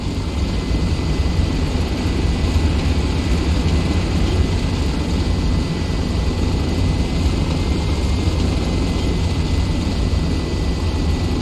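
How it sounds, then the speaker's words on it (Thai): Airplane flying in the combat game Ravenfield during an archipelago battle, its engine a steady, loud broadband drone that holds constant throughout with no talking. "เรายึดเครื่องบินมันได้ครับท่าน"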